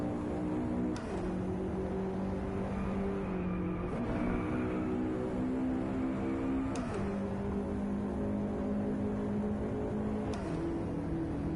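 A car in the racing game Driveclub, played with a wheel and shifter, drones with a steady engine tone that drops and climbs again at each of three gear changes, the revs rising smoothly between shifts.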